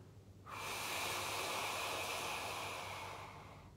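Loud, exaggerated breaths during a Pilates class: a steady, rushing breath begins after a brief quiet moment and holds for about three seconds, close to the listener, with no talking.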